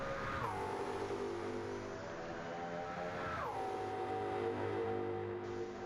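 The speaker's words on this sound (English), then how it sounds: "let's take a quick listen to that V8 rumble" A deep V8 engine in a Porsche Cayman GT4 with a swapped V8, in Gran Turismo 7, rumbles steadily, with two gear shifts marked by a drop in pitch before the revs climb again, loud and continuous.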